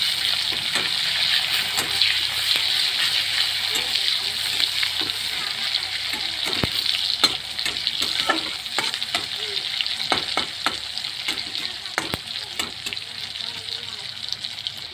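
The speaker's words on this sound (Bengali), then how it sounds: "সে দেখো আমার পেঁয়াজ ভাজি হয়ে গেছে।" Chopped onions frying in a pan, a continuous close hiss and sizzle with frequent sharp clicks and scrapes of stirring throughout.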